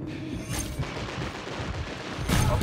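Gunfire rattles through a video game battle, with bursts of shots, explosive booms and mortar strikes. Two louder blasts stand out, one near the start and one at the end.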